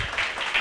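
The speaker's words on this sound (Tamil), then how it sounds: "கைத்தட்டுங்க" A church congregation claps their hands in a steady, loud burst of applause during a late-night Bible study gathering, with no voices heard over it.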